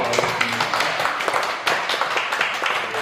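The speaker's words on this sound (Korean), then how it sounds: "우리 박수로 환영해 주시기 바라겠습니다" Church congregation clapping in welcome during a Sunday service, a dense, steady patter of many hands throughout, loud and close, with faint voices underneath.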